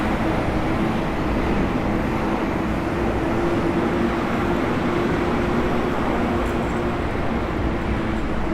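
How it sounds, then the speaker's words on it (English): Garbage truck on Bloor Street in Toronto, heard as a loud, constant engine drone and hum close by on a city street, steady for the whole stretch with no talk. "I gotta get away from this garbage truck."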